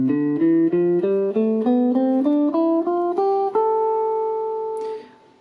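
Guitar plucking a minor scale one note at a time, ascending steadily in even steps and finishing on a held high note that slowly fades.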